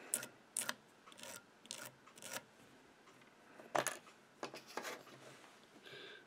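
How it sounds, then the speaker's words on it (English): Bristle brush raking through fly-tying material on an orange scud pattern, in a series of short, close, scratchy rasping strokes separated by brief pauses, with no talking. "Back at it with the brush."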